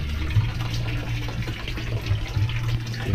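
Water is scooped and poured with a dipper from a tub in a provincial bathroom, a continuous close splashing and trickling, loud and steady, with no one talking.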